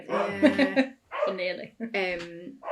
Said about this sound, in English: that's my dog barking with the fireworks.